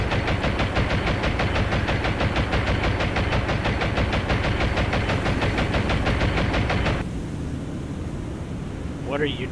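Rapid, evenly spaced bursts of naval gunfire from a warship in the naval game War on the Sea, a loud sustained rattle lasting about seven seconds and then stopping abruptly, leaving a rumbling engine drone.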